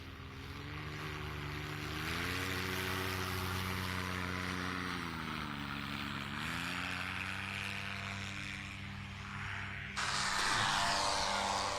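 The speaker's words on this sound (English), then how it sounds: "Eric doing his best STOL competitor impression there, dragging over the line" A propeller airplane at a STOL competition in Central Florida drones steadily and loudly, its engine pitch dipping and rising as it drags low over the line, with a burst of wind noise near the end.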